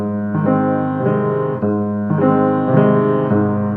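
Rolled piano chords ring out with the sustain pedal held, each chord spreading upward note by note and blending into a full, sustained wash, repeated several times in a slow, even rhythm, close and clear with no talking.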